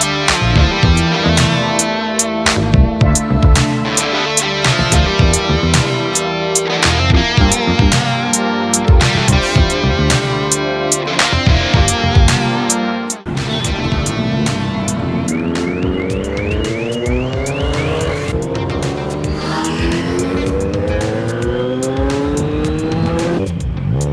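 A superbike engine revs hard on a Sunday group ride, loud and close, with rapid throttle blips and gear changes giving way to rising and falling sweeps of engine pitch, with no talking.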